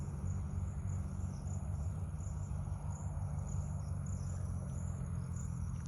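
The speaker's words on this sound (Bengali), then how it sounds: "চারিদিকে একটা ঝিঝি পোকার শব্দ" Steady cricket chirring fills a quiet jungle, a continuous high trill running the whole time alone, with no talk, over a low background rumble.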